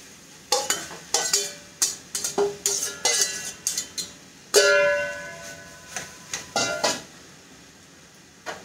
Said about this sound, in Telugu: ఇప్పుడు చూసారా మనం ఈ గిన్నెడు ముక్కలు వేస్తున్నాం కదా, బీరకాయ ముక్కలు అన్నమాట.